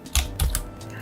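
A few quick close keystrokes on a computer keyboard as the Ctrl, Shift and M shortcut keys are pressed in Adobe XD, three distinct taps in under a second.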